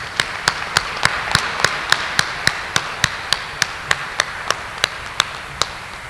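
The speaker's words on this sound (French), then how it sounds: "On met l'applaudissement" Sharp, evenly spaced claps, about three per second, ring out steadily in a church during a Christmas midnight Mass, each crisp and distinct over a soft background hum.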